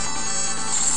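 A telephone rings in the background during Sonic 3 & Knuckles, heard as a bright, continuous electronic ringing tone that fills the whole moment at steady loudness.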